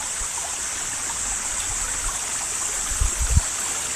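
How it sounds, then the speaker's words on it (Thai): Steady rushing water from a stream and waterfall hisses in the background, a constant flowing wash, with a few soft low thumps near the end. "ได้ยินเสียงน้ำไหลน้ำตกแล้ว"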